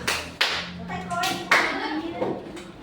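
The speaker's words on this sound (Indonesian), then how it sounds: "Tepuk semangat." A group's rhythmic spirit clapping chant at a coaching session, a few distinct sharp claps spaced apart with voices speaking between them.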